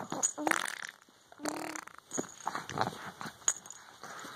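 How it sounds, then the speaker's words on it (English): Several short sputtering farting noises come in uneven bursts, fairly quiet and close, with soft rustling between them. "your notorious little farting sound"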